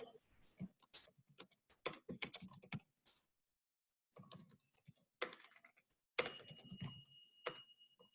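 Quick irregular keystrokes on a computer keyboard while C# code is typed, coming in clustered bursts with short pauses between them, close and fairly quiet.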